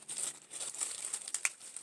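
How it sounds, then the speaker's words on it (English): Tissue paper crinkled and rolled by hand while making candy sushi party favors, a close, crisp crackling with quick rustling bursts and a sharper crunch near the end. "I have my tissue paper"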